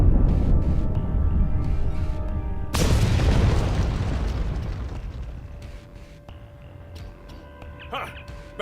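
A loud explosion in the space game Star Trek Online bursts in with a sharp broadband boom, then rumbles and decays over several seconds beneath steady game background noise.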